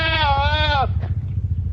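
A high-yielding dairy goat gives one long, wavering bleat close by over a low rumbling background, then goes quiet.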